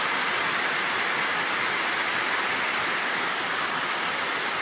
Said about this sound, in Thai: ฝนตก ตอนเที่ยง